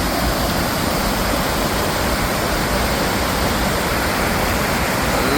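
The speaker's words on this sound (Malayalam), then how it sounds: "വന്നപ്പോൾ നമുക്ക് ഇവിടെ അടുത്ത് കാണാം ഈ വെള്ളച്ചാട്ടം." Balamuri waterfall near Mysore roars close by, a dense, steady rush of powerful flowing water that fills the whole stretch without a break or any voice.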